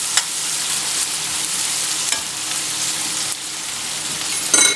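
Onion pieces dropped into plenty of hot oil for a ridge gourd and dry prawn curry, making a loud, steady, close sizzle with occasional crackles and a brief scrape at the end, with no talking.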